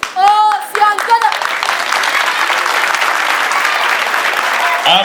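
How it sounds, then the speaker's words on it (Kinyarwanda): An audience at a children's karate and acrobatics club show applauds loudly and steadily for several seconds, a dense wash of clapping hands, with a few brief vocal sounds at the start. "Amashyi menshi cyane"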